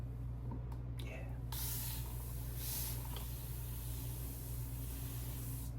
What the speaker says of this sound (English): so each spray is about a milliliter